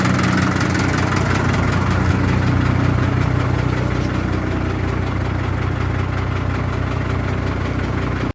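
A tractor engine idles steadily and loudly just after starting, a continuous low rumble with a slight knocking vibration and no talk.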